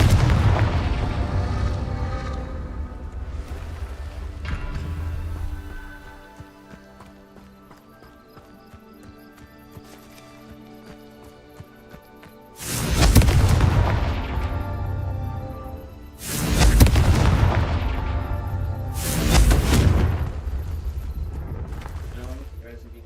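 Confringo spell explosions in the video game Hogwarts Legacy, several loud booming blasts in the second half, arriving in quick succession after a stretch of game sound and talking.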